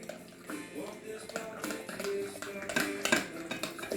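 Eggs stirred in a bowl with a utensil during sweet potato bar prep, a run of close clinking and scraping strokes against the dish, irregular in rhythm, with faint background room noise.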